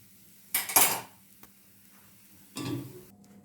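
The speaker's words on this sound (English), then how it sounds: "Now we'll keep another pan to this" A pan is set down on a stovetop with two short metallic clanks, a sharp clatter followed by a second softer knock, near and alone in an otherwise quiet kitchen, while cooking stuffed bitter gourd.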